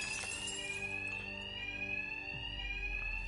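A loud, steady electronic fire alarm in Batman: Arkham Knight rings continuously, its high piercing tone unbroken throughout, with low rumbling game sounds beneath.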